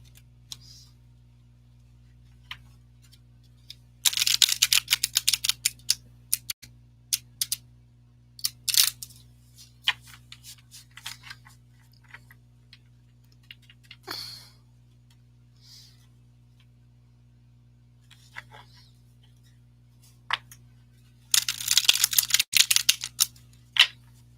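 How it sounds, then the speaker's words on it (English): Playing cards being flipped and shuffled close up, quick bursts of crisp riffling snaps separated by quieter gaps with scattered single flicks, over a low steady hum. "Does anybody get a satisfaction from the flipping of the cards? That sound."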